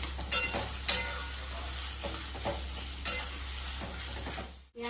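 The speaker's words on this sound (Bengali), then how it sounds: "পেঁয়াজটা আমি লাল লাল করে ভেজে নিই।" Onions fry in a pan for mutton kosha with a soft background sizzle, broken by several sharp clinks and scrapes of stirring utensils against the pan over a steady low hum.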